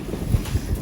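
Wind buffets a microphone outdoors on a cold day, a low rumbling roar with gusty thumps rising and falling over a brief stretch.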